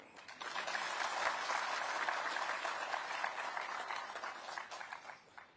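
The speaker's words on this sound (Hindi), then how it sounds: "ताली जोर से बजाइए।" Audience applause at a Teacher's Day state educational excellence award ceremony, a steady burst of many hands clapping that swells quickly, holds, then thins out toward the end.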